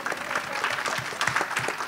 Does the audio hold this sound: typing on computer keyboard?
no